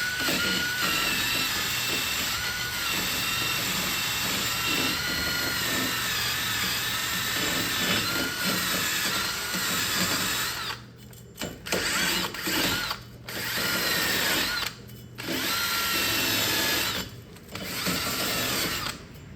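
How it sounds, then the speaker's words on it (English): Wire brush on a power drill scrubbing the wheel hub of a 2003 Ford Escape during a wheel bearing replacement, a continuous close whirring and scraping grind that briefly cuts out and restarts several times near the end. "I am going to hit that with a wire brush."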